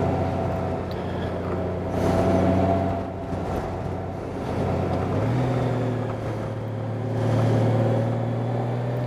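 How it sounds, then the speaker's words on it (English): A 2018 Honda Goldwing motorcycle riding in manual mode, engine drone rising and falling with pitch steps as gears change, set against steady wind noise. "Transmission's very responsive. It shifts almost instantaneously once you hit that button."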